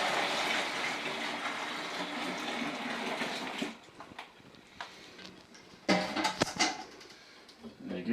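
Glucose and dried malt extract are poured into a beer kit brewing vessel, giving a dense, steady rushing hiss for a few seconds, followed by quieter scattered taps and rustles.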